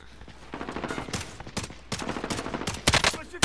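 Rapid gunfire from the battle royale game Call of Duty Warzone crackles in dense automatic bursts, loud and close, with heavier shots near the end and no talking.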